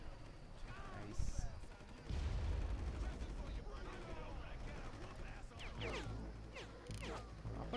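Gunfire and crashing impacts from a shootout in the video game Far Cry, a dense run of loud bursts and blasts with a heavy low rumble, under intermittent talk.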